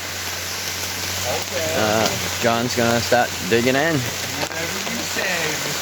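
Steady rain falls at an outdoor gold prospecting dig, a constant hiss under someone talking.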